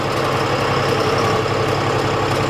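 A John Deere tractor's diesel engine runs continuously nearby, a loud, even low-pitched chug with mechanical vibration throughout and no talking.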